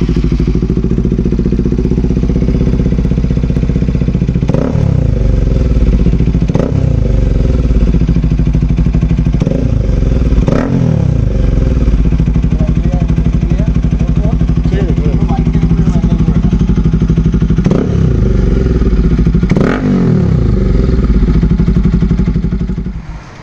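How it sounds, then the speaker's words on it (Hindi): Modified Bajaj RS 200 motorcycle exhaust idling loudly close by, broken by several sharp revs that rise and fall back to a rumbling idle, with no talking. "एग्जॉस्ट का साउंड कैसा लगा कमेंट सेक्शन में ज़रूर बताइए"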